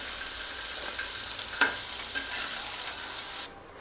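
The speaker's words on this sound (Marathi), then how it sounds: "तर पनीर फ्राय करूया" Paneer fries in a pan, giving a steady close sizzle with a few light stirring scrapes and one sharp tap before it stops suddenly near the end.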